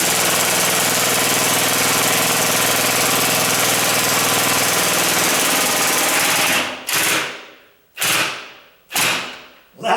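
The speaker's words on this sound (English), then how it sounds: "This one I can use my impact to go all the way because it's that long one." An impact wrench drives a long bolt into a sagging garage door, hammering loudly and continuously for about seven seconds before firing three short, sharp bursts up close.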